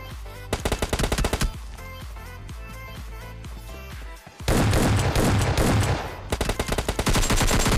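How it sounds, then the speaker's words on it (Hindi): Gunfire in PUBG Mobile Lite: rapid automatic bursts and single shots, loud and close, with a short lull before a sustained heavy volley, then more stuttering bursts; no voices. "देखो यार मेरे ऊपर ही फायरिंग कर रहे थे"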